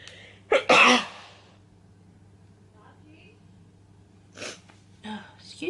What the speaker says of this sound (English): Now I need to sneeze.